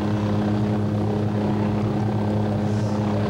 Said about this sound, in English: Choppers were also used today to transport patients to hospitals.